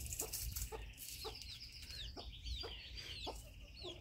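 A bantam hen with a single chick gives repeated soft clucks, several short calls spread evenly through the stretch, over a steady low rumble of background noise.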